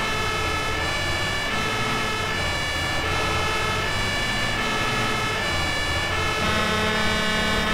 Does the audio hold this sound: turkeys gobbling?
no